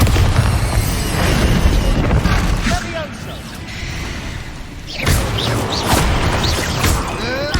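A Bombarda blasting spell goes off in Hogwarts Legacy: a deep booming explosion amid a loud, busy game mix of rumbling and bursts.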